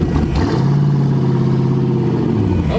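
Twin-turbo Mazda RX7 rotary engine idling in a parking lot, then rising into a steady, throaty rev that holds near and loud before dropping back, with no talk over it.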